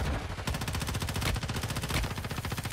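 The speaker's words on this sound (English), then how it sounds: "This guy shot me through the smoke, like, completely." Rapid automatic gunfire rattles continuously in Warzone Mobile, dense evenly spaced shots forming a loud, unbroken burst throughout.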